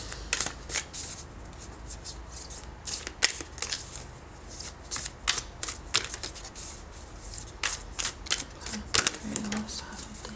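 Moonology oracle cards are shuffled in a card reading, giving a steady run of sharp riffling snaps and flicks through the whole stretch with no voice over them.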